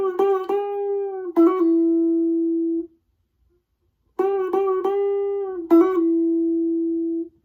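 Clean guitar phrase from a song: plucked notes with bends and a quick hammer-on pull-off sustain and ring out, then the same phrase repeats after a short silence, played close and alone.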